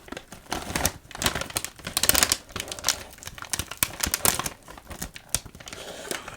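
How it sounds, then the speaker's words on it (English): A thick plastic bag of pizza-flavored potato chips crinkles and crackles as it is handled and pulled at, with irregular rustling bursts close to the microphone and no voice. "let's get our pizza opened up"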